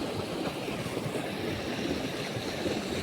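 River water rushing at full flow near a waterfall, a steady broadband roar that holds constant and fairly loud throughout, with no voices over it.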